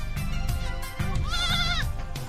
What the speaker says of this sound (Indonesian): keluarga Muratkan juga punya puluhan kambing